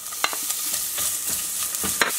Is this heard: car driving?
no